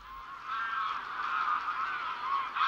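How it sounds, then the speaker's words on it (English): Greylag geese, wild migratory birds at a lagoon, honk in a dense continuous chorus, many calls overlapping loudly from a sizeable flock. "another great migratory bird, the grey-legged goose, also known as the wild goose"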